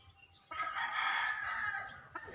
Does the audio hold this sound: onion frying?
no